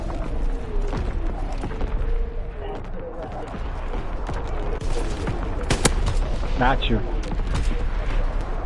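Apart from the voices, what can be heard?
artillery fire in a video game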